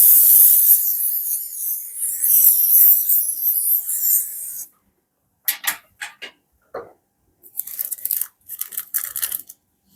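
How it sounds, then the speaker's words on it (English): Cooking spray gives a steady hissing spray for several seconds, then stops, followed by a scattering of short dry crackles and taps. "Use our cook and spray."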